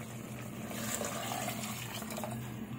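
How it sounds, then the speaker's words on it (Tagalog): Water poured steadily into a pot of simmering mung bean stew (monggo), a continuous soft gushing splash lasting a few seconds, close and moderately quiet with no talking. "Dagdagan natin ang tubig."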